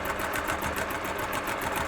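Sewing machine top stitching fabric, running at a fast, even clattering pace throughout, close and steady with no pauses or talk.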